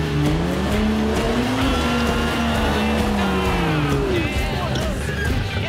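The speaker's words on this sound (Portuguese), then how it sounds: "a Cherokee precisou de duas tentativas e acelerar mais forte" A Jeep Cherokee accelerates hard on an off-road club trail, its engine roaring loud and close as the revs climb and dip again in a sustained strain.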